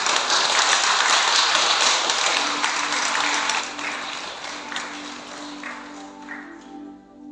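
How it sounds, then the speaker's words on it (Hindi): Audience at a Hari Katha gathering in Holland applauds the temple committee, loud dense clapping that gradually thins and fades while a sustained tone emerges underneath. "सभी लोग ताली बजाइए एक बार जोर से।"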